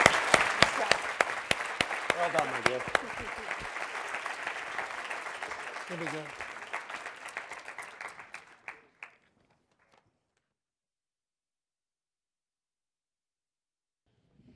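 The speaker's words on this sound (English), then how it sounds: "let's give our candidates a huge round of applause." Applause from a conference audience at a health policy event rises loud and dense, with a voice speaking briefly over it, then fades out about two thirds of the way through, leaving near silence.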